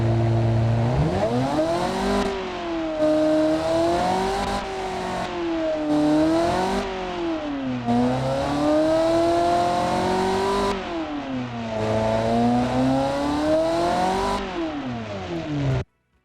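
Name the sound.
car engine revving in Automation video game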